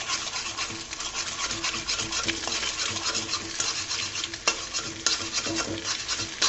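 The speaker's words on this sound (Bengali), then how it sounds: "ডিমটাকে আমি জুড়ো করে নিব, স্ক্র্যাম্বল বানিয়ে ফেলবো ডিমটাকে" Eggs are scrambled in a frying pan with a constant, close scraping and stirring of the utensil against the pan over a bright, continuous sizzle, with no voices.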